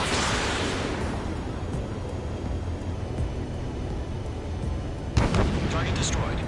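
Anti-aircraft fire and explosions rumble in the Ace Combat combat flight game, a loud booming blast fading into continuous low battle noise, then a sharp second burst of gunfire near the end.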